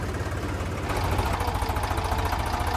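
A generator engine idles steadily nearby at a langar site in Chamkaur Sahib, a constant low mechanical rumble with a slight rhythmic throb and no voices.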